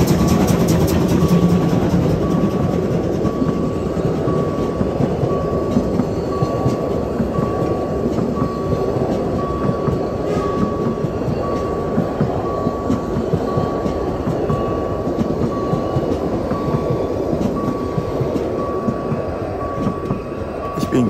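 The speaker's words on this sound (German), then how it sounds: "Der Zug kommt aus Zittau." Narrow-gauge 750 mm steam train arriving from Zittau at the station in Berzdorf, Oberlausitz, a loud continuous rumble of rolling wagons with clattering wheels and a thin steady whine throughout, no talking.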